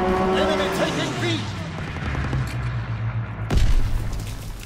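A fighter strike in Call of Duty: WWII on the London Docks map, heard as rumbling booms and aircraft roar under a game announcer's voice, ending in a louder deep blast near the end.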